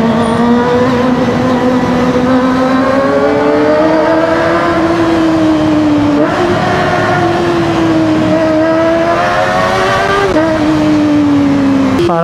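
A 2024 Kawasaki ZX25R SE sport bike revs hard above 8,000 RPM, a loud, high-pitched four-cylinder wail that climbs and dips through gear changes, close and continuous.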